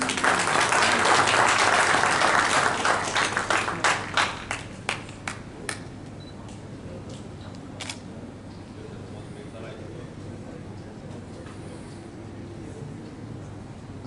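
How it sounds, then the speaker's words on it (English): An audience at an auto parts industry award ceremony gives a round of applause to a company receiving a supplier honor. The dense clapping is loud at first, then thins out into scattered individual claps and fades to quiet room noise. "So a big applause for them."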